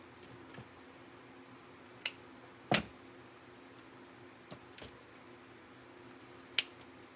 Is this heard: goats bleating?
no